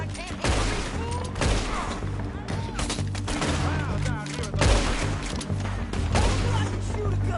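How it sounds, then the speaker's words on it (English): Gunfire rings out in a video game shootout, sharp bursts and single shots scattered across the stretch over a steady in-game backdrop, fairly loud and close, with voices talking between the shots. "I can shoot a gun!"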